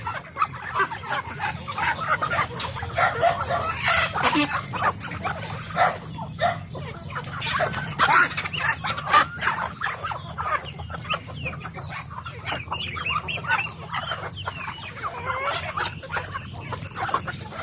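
A flock of turkeys clucks and gobbles continuously nearby, many overlapping calls with no one talking.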